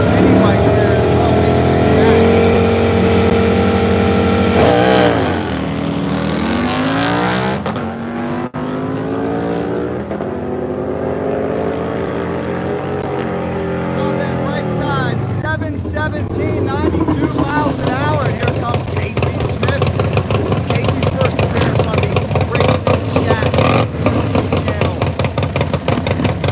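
Harley motorcycles racing at a drag strip, loud engines roaring and revving up and down in long sweeping pitch rises with a sustained blare throughout.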